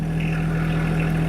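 A John Deere tractor with a loader idles steadily, a close, even low rumble with a constant hum that runs unchanged and unbroken, no voices over it.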